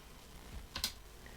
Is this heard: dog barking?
no